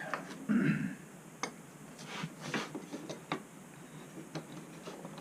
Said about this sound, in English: Quite a little contraption here to clamp this thing down